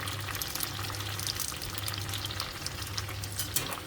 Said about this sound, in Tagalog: Fry lang natin hanggang mag light brown siya